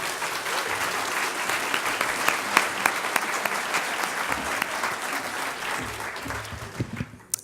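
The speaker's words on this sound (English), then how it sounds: "I think that deserves another round of applause." A conference audience applauds a flash mob performance, a dense and steady wash of many hands clapping that holds for several seconds before thinning and fading out at the end.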